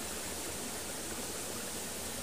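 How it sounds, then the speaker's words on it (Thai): Waterfall beside a forest camp in the evening, a faint, continuous broadband rush of falling water, steady and unbroken with no voices. "บรรยากาศตอนเย็นนี่ก็นี่เลยครับข้างน้ำตกที่เราอยู่ครับ"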